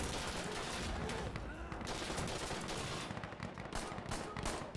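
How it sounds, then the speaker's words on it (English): Rapid bursts of gunfire in the video game Insurgency: Sandstorm crackle and pop in dense volleys, loud and close, with automatic fire rattling on and off throughout. "That was so much gunfire coming in on this little hut."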